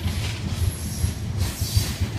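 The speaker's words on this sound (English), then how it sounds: "watching a coal train go by with three locomotives" A CSX coal train with three locomotives rumbles past at close range in Alabama, steady low roar with faint rhythmic clacking of wheels over rail joints and a thin high squeal above.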